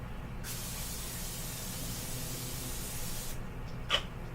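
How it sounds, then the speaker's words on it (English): A steady aerosol cooking spray hisses into a pan on the stove for about three seconds, followed by a short second spritz and a light clink. "Put a little bit of cooking spray in it."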